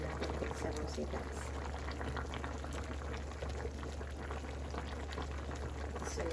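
A pot of sinigang with kangkong greens at a rolling boil on the verge of boiling over, a steady close bubbling and hissing under a low hum throughout, with a person speaking nearby.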